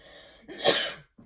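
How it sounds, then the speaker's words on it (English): A single close, harsh cough bursts out, followed by a short pause and a faint breath. "Wow, all of a sudden I started coughing."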